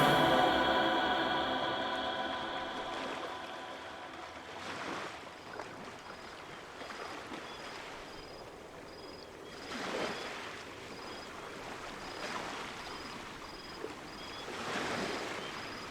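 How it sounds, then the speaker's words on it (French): Waves wash onto a beach, soft surges of broad hiss rising and falling every few seconds over steady wind-like noise, moderately distant and without voices. "bercé par la rythmique des vagues"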